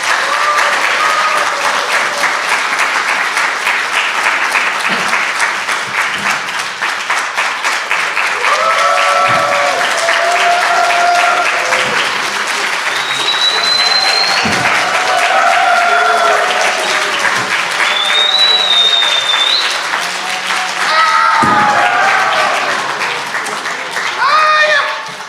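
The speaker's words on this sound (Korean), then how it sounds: "깡 여사님 박수로 맞으세요." A church congregation applauds at length to welcome a guest at a worship service, with sustained, dense clapping and scattered voices calling out over it.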